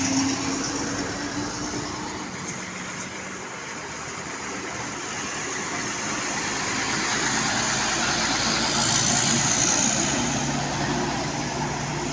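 A motor vehicle approaches with its engine running, a steady broadband rumble that slowly grows louder and nearer over about twelve seconds, with no talking.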